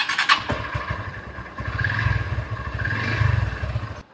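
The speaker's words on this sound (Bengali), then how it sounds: "হোয়াটএভার, বাইক স্টার্ট দিই।" A motorcycle starts up close by, settling into a low, throbbing idle with a rapid pulsing engine beat.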